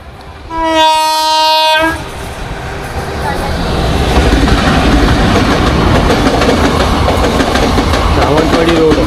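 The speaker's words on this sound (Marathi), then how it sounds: "क्रॉसिंगला थांबली ट्रेन. आता समोरची ट्रेन आली आहे." At a railway crossing, a horn blasts loud for about a second, then an oncoming train roars past close by with a continuous rumble and rattle of wagons.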